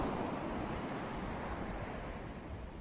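Steady ocean waves and surf with a breezy wind wash, a constant broadband roar at moderate distance, fairly quiet and continuous, with no voices.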